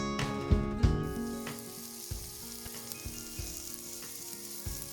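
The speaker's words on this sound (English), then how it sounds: "and then you fry this well again" Kashmiri chillies, cinnamon and cloves frying in a pan, a steady close sizzle with a few sharp crackles and stirring knocks early on, no talking.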